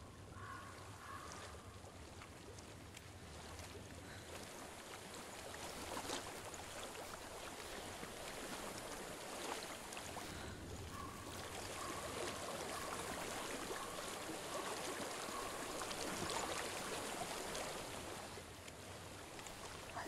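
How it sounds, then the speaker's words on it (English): Flowing stream water in the video game Hellblade, a steady soft rushing and trickling that stays faint and continuous throughout. "I hear water."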